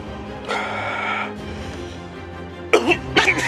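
A person coughs after tasting an extremely hot chili sauce: a throaty cough burst early on, then a pause, then several harsh, strained coughs and throat clearing close up.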